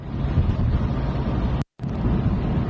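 Strong wind and heavy rain buffet a motorcycle rider crossing a bridge, a steady loud roar of wind noise with a brief dropout near the middle.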